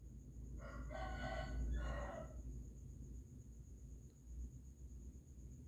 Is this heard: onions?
no